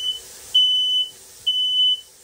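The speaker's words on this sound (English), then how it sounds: "Smoke detector." A smoke detector inside a yurt, set off by cooking, sounds three loud, shrill electronic beeps, each about half a second long, in a steady repeating rhythm.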